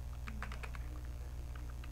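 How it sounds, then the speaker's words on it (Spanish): Keys on a computer keyboard are pressed in a quick cluster of soft clicks, as when entering a shortcut, over a steady low electrical hum. "Si nosotros presionamos las teclas Shift, Alternate y F, pues inmediatamente nuestro código se va a formatear"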